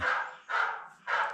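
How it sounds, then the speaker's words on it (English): A phone ringtone of a recorded dog barking: three loud, yappy barks in a row, close by, each a short burst with a gap between. "My phone's barking at me."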